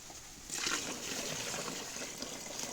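Water pours and trickles steadily into a container, a continuous splashing stream that starts abruptly and runs on without voices.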